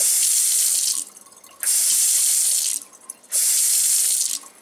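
Water runs from a repaired Delta single-handle faucet in three loud, hissing bursts of about a second each, separated by short pauses as it is turned on and off, close with no talking.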